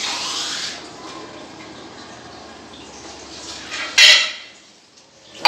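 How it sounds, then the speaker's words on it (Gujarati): Water is poured into a metal pressure cooker holding vegetables on a gas stove, a short splashing pour followed by quieter trickling and a couple of clanks of the pot, close and loud, with no talking. "પાણી નાખી દઈએ થોડુંક"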